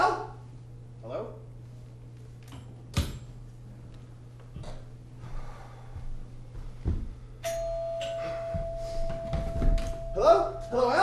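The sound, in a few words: doorbell ringing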